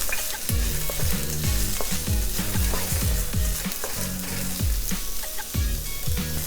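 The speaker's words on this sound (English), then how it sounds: "Next, we stir fry our vegetable. Let's start off with the carrot." Carrots stir-frying in a hot pan, a loud close sizzle broken by rapid repeated clanks and scrapes of a utensil against the pan in a quick rhythm, with no talking.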